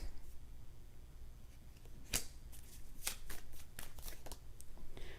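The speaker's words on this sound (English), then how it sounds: "I'm going to pull one more card. Let's pull one more card for this." A deck of tarot cards is shuffled close by: soft, papery riffles and sharp flicks come in quick bursts over quiet room tone, with no talking.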